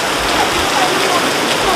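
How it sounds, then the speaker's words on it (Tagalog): Heavy rain pouring down in Baguio City, a steady, dense broadband hiss that stays loud and even throughout with no pauses. "Tingnan nyo, lakas ng ulan oh."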